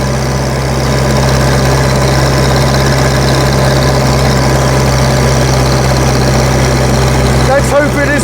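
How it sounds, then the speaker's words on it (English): A Grey Fergie tractor engine runs loud and steady right beside the driver's seat, its nearby exhaust giving a constant heavy throb that holds throughout, with a brief rattle near the end. "Exhaust is just there, so it's quite loud."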